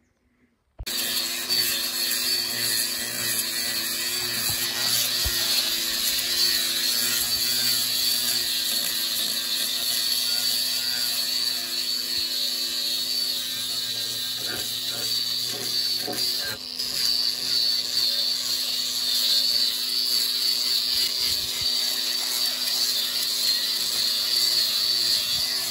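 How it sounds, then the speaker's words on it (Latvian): A power sander works over wooden boards to strip the bark layer before painting, a steady high-pitched mechanical whine with scraping texture that runs continuously for about twenty-five seconds without speech. "Bet tagad mēs iesim paslīpēt kārtiņas, tā kā noņemt to mizas slāni, lai pēc tam var krāsot normālāk."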